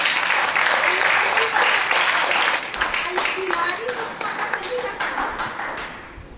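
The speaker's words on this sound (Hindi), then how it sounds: "ये गेनोडर्मा के लिए जोरदार ताली है।" Loud, steady audience applause at a health-product seminar on Ganoderma and DXN products, dense clapping that fades slightly toward the end, with voices talking over it.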